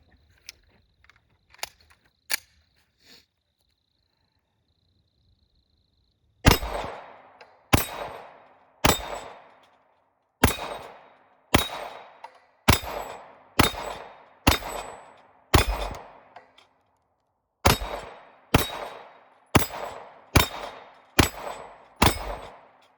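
An SA35 pistol fires Federal 115 grain rounds at an outdoor range: a few faint clicks first, then about fifteen loud, sharp reports in quick spaced succession, each with a brief decay and no talk.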